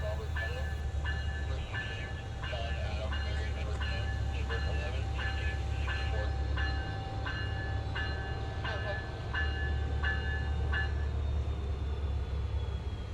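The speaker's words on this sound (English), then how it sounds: "As number 729 comes to a stop at the Rockwood station" A steam train, number 729, rumbles steadily into Rockwood station with rhythmic squealing and clacking from the wheels as it slows to a stop, while a voice speaks faintly underneath.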